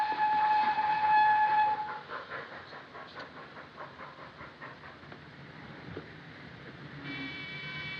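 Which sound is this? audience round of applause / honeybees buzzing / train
train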